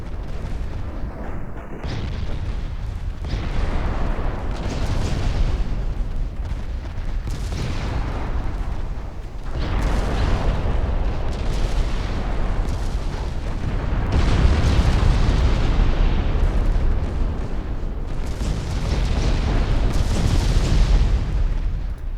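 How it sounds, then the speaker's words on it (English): Naval gunfire and shell explosions from the Ultimate Admiral Dreadnoughts warship game roll on continuously, with dense, heavy booms and rumbling blasts overlapping at a loud, sustained level throughout. "Fujian has already switched fire to Helgoland."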